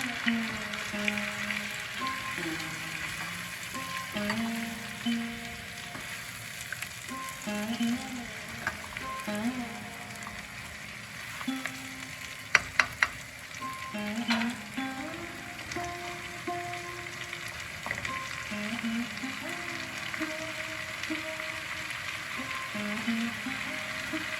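Spice paste with ginger paste fries in hot oil for a vegetarian cauliflower dish. A continuous, even sizzle runs throughout, with a few brief clinks and no real talking.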